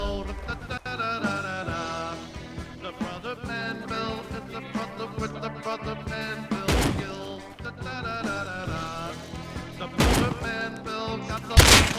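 Pistol gunfire in the game Rust, several sharp, loud cracks spread across the stretch, with two or three standing out clearly over a busy backdrop of music and game noise.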